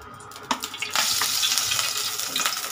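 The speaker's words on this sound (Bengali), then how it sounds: "কড়াইটা গরম হয়ে গেছে, আমি সরষের তেল দিয়ে দিলাম।" Mustard oil poured into a hot wok for a Bengali dhokar dalna crackles and sizzles close up, starting with a sharp clatter and then settling into a steady, dense frying hiss.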